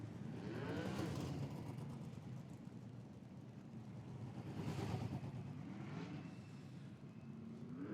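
Sprint cars race at Cromwell speedway, engines roaring past in broad, distant swells that rise and fade twice over a continuous rumble of track noise.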